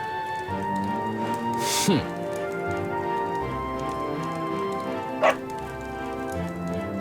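A dog barks in Dragon Quest 11, a couple of short game barks over steady background music, with a yelping voice reacting around them.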